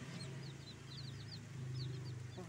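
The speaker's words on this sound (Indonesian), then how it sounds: "Terus ke bawah sini ada kandang ayam Rembo." Chickens in a backyard coop cluck and chirp softly in short bursts over a steady low outdoor hum, fairly distant.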